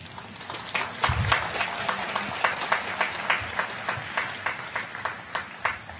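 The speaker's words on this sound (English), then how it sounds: "I'll let Tim and Cory know you applauded." An audience at a Harvard Law School Class Day speech applauds with steady, dense clapping throughout, moderately loud, with no voices over it.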